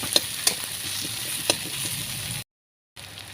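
Oil sizzles steadily in a pan for a cabbage ghonto as a spoon stirs the ingredients, with a few sharp scraping clicks on top. The sizzle drops to a brief silence, then resumes.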